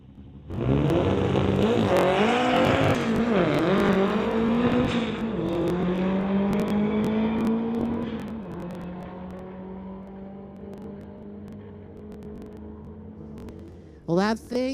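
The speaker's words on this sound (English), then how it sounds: "James Martin pulling up to the line, 1956 Beetle, sponsored by Black Squirrel Racing." A 1956 Volkswagen Beetle making a solo drag racing pass, its engine roaring loud and close as it accelerates hard through rising gear pulls, then fading as it runs away down the strip, with a short tire squeal near the end.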